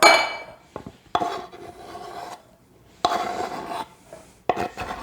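Chopped green olives scraped off a board into a bowl, heard as several short, close rasping scrapes with brief pauses between strokes and a faint clink of utensil against the dish.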